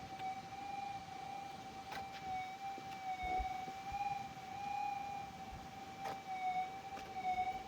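A Minelab GPZ 8000 metal detector sweeping over salty ground gives a steady, faint high electronic tone that wobbles slightly in pitch, with soft broadband ground noise and a few faint ticks underneath, and no voices.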